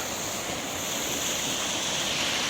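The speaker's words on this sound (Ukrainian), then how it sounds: "А ось і обіцяний струмок." A mountain stream in the Carpathians near Kvasy, Ukraine, giving a steady broad rushing wash of flowing water, fairly soft and constant, with no voices.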